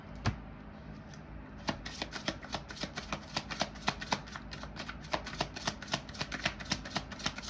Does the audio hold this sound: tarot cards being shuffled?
yes